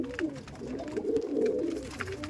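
Aggressive Madrasi high-flying pigeons coo in a loft, their low throaty rolling calls overlapping and swelling in the middle, near and fairly loud.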